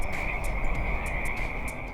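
Frogs croak at night in tulip fields, a dense steady chorus with a continuous high trilling drone and repeated bright chirps pulsing over a low background.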